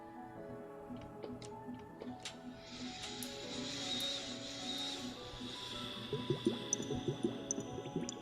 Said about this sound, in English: Let me do the water globies for Flubber.